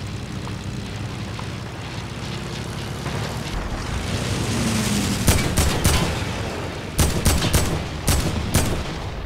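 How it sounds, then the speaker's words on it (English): A propeller airplane drones overhead in the Fortnite battle royale video game, a steady rising hum joined partway through by sharp bursts of gunfire in quick clusters. "Alright, that darn airplane."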